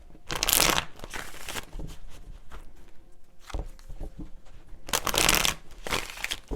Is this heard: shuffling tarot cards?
yes